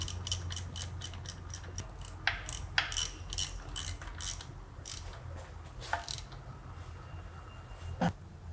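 A mechanic tightens 15 mm bolts on a car transmission, making a long run of quick metallic ratchet clicks in short bursts, close and clear against a quiet background.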